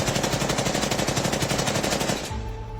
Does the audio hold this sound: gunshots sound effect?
yes